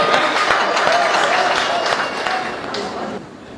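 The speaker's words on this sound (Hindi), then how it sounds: "तालियां बजाओ तो मन से बजाओ जाए" Applause from an audience at a live comedic talk, a dense wash of clapping that holds steady and then fades slightly toward the end.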